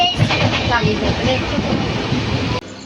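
A train pulls into Khed station in the Konkan before dawn on a monsoon journey, with steady clattering wheels and a dense rumble throughout, cut off abruptly near the end; faint voices may be mixed into the noise.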